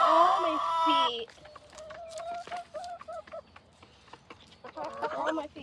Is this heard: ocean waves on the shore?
no